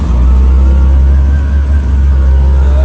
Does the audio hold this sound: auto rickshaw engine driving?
yes